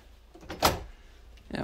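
A conservatory entrance door in a Norfolk bungalow opens out to the rear garden, giving a single short knock-and-swing sound midway, followed by a faint rustle as the door clears.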